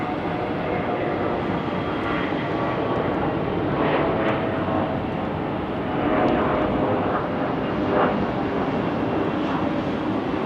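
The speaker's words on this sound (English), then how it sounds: "There's our CRJ 200 popping up right there." A CRJ 200 jet airliner at Salt Lake City airport produces a steady broadband engine roar from a moderate distance, continuous throughout with slight swells, heard without talk.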